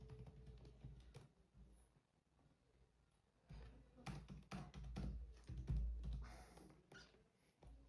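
Someone types details on a computer keyboard while filling in a passport application form. Irregular runs of close key clicks and taps come in bursts with short pauses, quiet overall.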